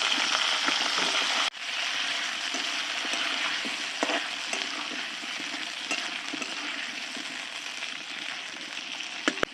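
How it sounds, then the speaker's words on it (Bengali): Potatoes and cauliflower dropped into leftover fish-frying oil for a silver carp curry burst into a loud sizzle that then holds steady and close, with faint stirring scrapes and no talk. "মাছ ভাজার তেলে আমি আলু আর ফুলকপিগুলো একসঙ্গে ভেজে নিচ্ছি।"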